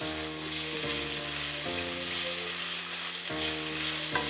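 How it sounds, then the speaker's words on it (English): Doubanjiang chili bean paste sautés in oil for mapo tofu, giving a loud, continuous close sizzle with a steady crackling hiss throughout and no speech. "Now saute the doubanjiang for a while"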